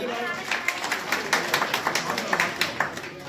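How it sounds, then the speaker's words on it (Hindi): An audience at a women's honour ceremony in a Delhi panchayat assembly claps in honour, a steady patter with sharper claps standing out, while someone talks over it. "एक बार तालियों से अभिनंदन"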